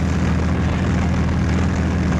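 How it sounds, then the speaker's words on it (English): Wartime aeroplane engines drone in a loud, continuous propeller roar that fills the whole clip with a steady, dense rumble and no other sound. "the sound of aeroplane engines filled the air"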